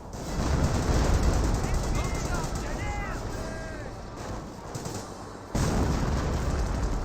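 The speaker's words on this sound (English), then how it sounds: "He got good artillery hits there onto the garrison." Artillery fire in Company of Heroes sounds as dull booming impacts and battle noise under someone talking continuously, with a sharp louder blast near the end.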